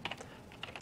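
Light keyboard typing while coding in Visual Studio, where the tab key is pressed twice to expand a snippet: a few quick, close, soft clicks in a short burst with no speech.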